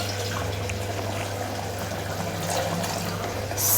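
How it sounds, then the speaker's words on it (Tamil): Steady running water mixed with yogurt pours into a pot of mutton korma for several seconds, a continuous close splashing and trickling with a low background hum. "இப்போ நம்ம வந்து கொஞ்சம் தயிர் கலந்த அந்த தண்ணியை சேர்த்துக்கலாம்."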